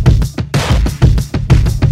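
A hard-hitting triplet bounce drum beat pounds out a loud, driving pattern of heavy kicks and snappy hits that repeats in a swung rhythm.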